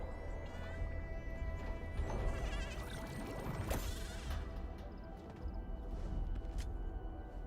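Sheep bleating in Arknights Endfield, a wavering animal cry rising out of a busy mechanical game backdrop, moderately loud and heard without talk.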